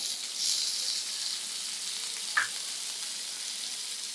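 Carrot and capsicum stir-frying with cabbage and tomato in a pan for restaurant-style chicken fried rice, giving a steady soft sizzle throughout with a brief louder clatter of stirring midway.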